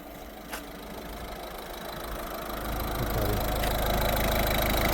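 A Citroen C4 Aircross 1.6 HDi 115 hp diesel engine idles steadily with a low, even rumble, getting slightly louder partway through as if approached, with no voices.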